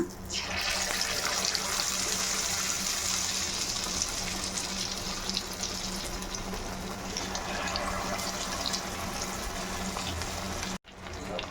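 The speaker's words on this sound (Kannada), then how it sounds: "ಎಣ್ಣೆ ಇವಾಗ ಚೆನ್ನಾಗಿ ಕಾದಿದೆ. ಇವಾಗ ಒಂದೊಂದೇ ಫ್ರೈ ಮಾಡ್ಕೊಳ್ಳೋಣ." Chicken lollipops coated in egg batter deep fry in hot oil, giving a dense, continuous bubbling sizzle with a steady low hum underneath, close and fairly loud throughout with a brief drop near the end.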